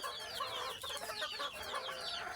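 A flock of native desi chickens clucks continuously at low volume, overlapping calls forming a soft, busy chatter with no talking.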